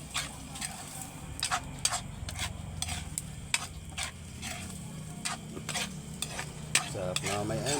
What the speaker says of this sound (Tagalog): Sabay haluin natin mga kaidol.